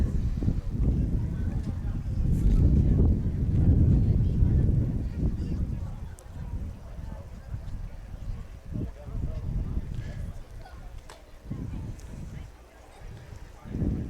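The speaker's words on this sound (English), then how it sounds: "The wind is absolutely picking up" Gusting wind buffets the microphone at an outdoor soccer match between Steel City FC and Strikers Fox Valley, a steady low roar that swells and eases, with voices talking under it.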